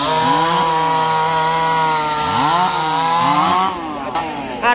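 Loud, close chainsaw bites into the trunk of a Sao tree, engine holding a high whine with rising and falling revs before easing off near the end.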